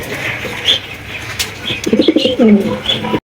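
Pigeons coo nearby in low, throaty warbling bursts, with faint rustling and a brief flap before the sound cuts off.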